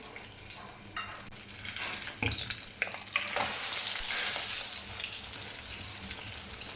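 An omelette sizzles and fries in a hot pan just after being flipped, a steady close crackle with a few scraping and splashing bursts, rising louder toward the middle and staying dense to the end.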